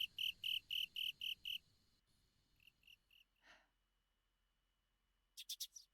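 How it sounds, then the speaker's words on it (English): A cricket in the Ayakashi Akashi game chirps in sharp, evenly spaced pulses, then falls quiet among faint insect sounds before a short burst of chirps returns, all in a hushed night setting. "hearing only the noise of the insects and that fucking insistent cricket"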